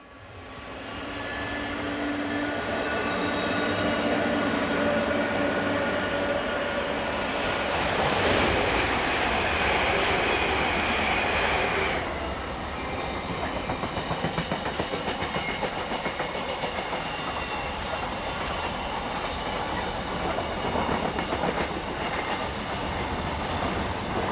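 Two Class 86 electric locomotives, 86613 and 86632, haul a container freight train, 4L97 from Trafford Park to Felixstowe, past the listener in a loud continuous rumble and rush of wagons that swells midway and stays steady to the end.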